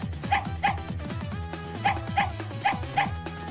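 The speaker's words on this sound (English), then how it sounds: "Oh hey, it's Stikbot dog." A toy-figure dog barks and yips in quick pairs of bright, near barks, repeating over a steady musical backing.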